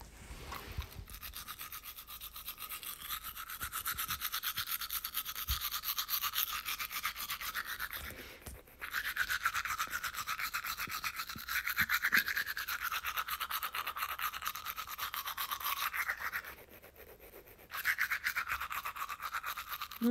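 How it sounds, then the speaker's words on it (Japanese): Teeth brushed with a toothbrush: a close, continuous bristly scrubbing in rapid back-and-forth strokes, with two brief pauses, alone and fairly loud. "今から歯磨くんだけど"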